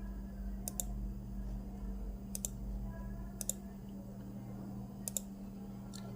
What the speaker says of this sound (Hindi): यहाँ पे आपने एक दफ़ा क्लिक कर देना है।